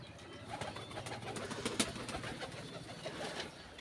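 Pigeons kept in a pigeon farm coo softly in a low, faint murmur, with a brief sharp click partway through and no speech.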